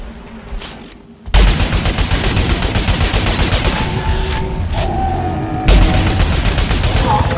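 Rapid rifle gunfire in the Destiny Crucible multiplayer mode comes as loud, dense bursts of shots, close and continuous, with brief gaps and a voice talking underneath.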